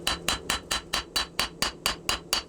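A straight peen hammer strikes hot 5160 steel being hand forged into a knife from thick coil stock, delivering ten evenly paced ringing blows, loud and close, with no talking.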